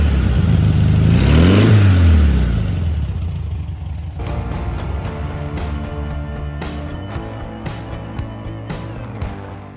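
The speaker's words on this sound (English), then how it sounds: "Engine is running." A 1958 VW bus engine running close by, first swelling in a strong rev that climbs and falls back, then settling into a steady rough idle with small blips of throttle.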